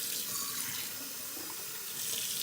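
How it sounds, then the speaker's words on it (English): A kitchen faucet runs hot water steadily into a sink, a continuous close splashing hiss with no voices, while ingredients are being measured for homemade pizza dough. "go to the faucet right here. Let it run for a minute till it's as hot as possible."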